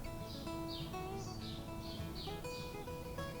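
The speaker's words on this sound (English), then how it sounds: "Birds are heard distantly." Birdsong drifts in from outside a dimly lit zendo before dawn, a few thin chirping calls repeating every half second or so over a steady low background hum, distant and faint throughout.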